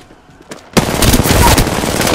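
Sustained burst of video game gunfire in Apex Legends as a character takes hits, starting abruptly after a brief quiet and staying loud and dense to the end.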